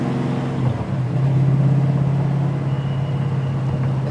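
A 1967 Ford Mustang Fastback with updates and enhancements runs its engine in a steady low rumbling drone, loud and close, the pitch rising slightly once before settling into an even cruise.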